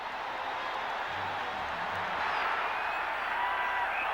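A baseball crowd at Fenway Park roars and claps in a broad, steady wash of noise, moderately distant and swelling slightly toward the end.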